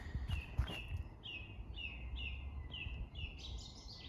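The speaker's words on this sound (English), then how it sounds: "You can probably hear as well the birds singing" A bird repeats short, bright chirping notes at a steady pace over a low outdoor rumble, slightly distant.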